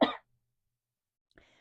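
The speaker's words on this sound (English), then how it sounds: "excuse me, I'm going to cough." A single short, sharp cough from a woman, followed by silence and then a faint hint of a voice.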